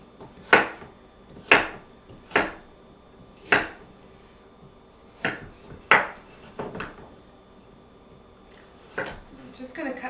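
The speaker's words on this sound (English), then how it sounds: "Cut off that bad end of that carrot." Knife chopping through a carrot on a board, a run of sharp separate cuts, about eight over ten seconds, fairly close and clear with a quiet room behind.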